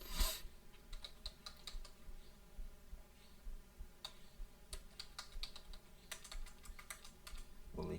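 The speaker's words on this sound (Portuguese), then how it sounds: "Vou digitar aqui." Fingers type on a computer keyboard while text is entered into a Word document, producing a quiet, steady patter of key clicks that runs through the whole stretch, with a louder tap at the start and end.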